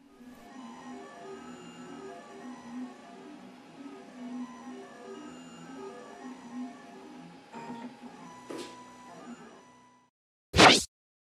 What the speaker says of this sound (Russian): Обожаю наблюдать за работой трехмерного принтера.